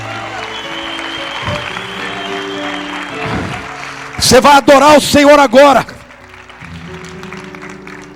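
A church congregation bursts into loud applause for about two seconds amid a preacher's spoken words and soft background music.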